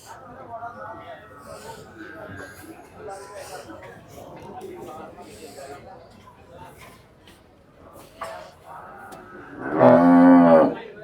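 People chatter at a busy cattle market in Gabtoli, Bangladesh, then a cow lets out one loud, long moo close by near the end.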